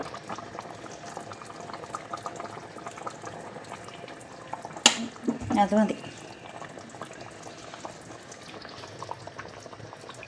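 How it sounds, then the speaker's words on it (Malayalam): Fish curry simmering in a pot on a stove, giving a steady, low bubbling throughout, with a short clatter midway and a person talking over it. "നമ്മുടെ മീൻകറി ഇവിടെ വെന്ത് വന്നിട്ടുണ്ട് കേട്ടോ, നന്നായിട്ട് വെന്തിട്ടുണ്ട്"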